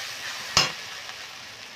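Mutton pieces hit hot frying masala with a single sharp sizzling splash, then settle into a soft, steady fry hiss close by, with no voices.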